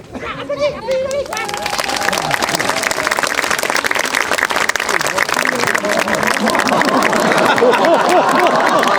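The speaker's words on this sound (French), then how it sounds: "Applaudis" A group bursts into lively clapping after a few brief voices, the sharp claps dense and fairly close, continuing with some chatter mixed underneath.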